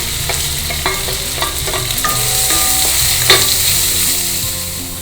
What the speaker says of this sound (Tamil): பாருங்கள், வெங்காயம் வதங்கிடுது.